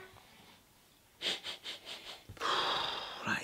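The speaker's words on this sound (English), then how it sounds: "Everyone does that when they get new cars. They sniff the wheels" Someone sniffs new RC car wheels up close, a quick series of short sharp inhales followed by a longer sustained sniff.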